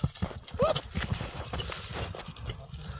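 Hooves of a tall bay horse clip-clop in a quick uneven rhythm close by, while people talk faintly in the background.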